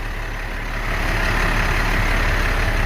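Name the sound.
2007 International 4400 grapple truck engine running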